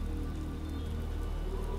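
Heavy downpour in the video game Watch Dogs gives a dense, continuous hiss of rain over a low steady rumble, with no voices.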